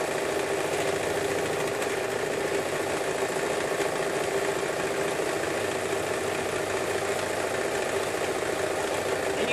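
A serger sewing machine trims about a quarter inch off a neck ruffle, running with a steady, unbroken mechanical whir and hum throughout, loud and close, with no talk.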